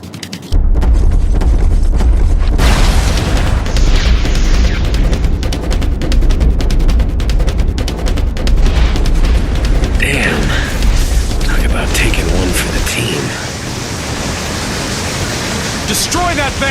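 Loud booms and a roaring blast boil into a long, crackling rumble of explosions in the action game inFAMOUS, with battle noise and voices scattered through the din.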